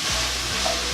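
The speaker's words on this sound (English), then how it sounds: "now you want to break up the mince and continue to cook this until all the pink's gone out of the meat" Beef mince frying in a pan while being broken up, a loud, constant close sizzle with a few scraping stirring strokes, no speech.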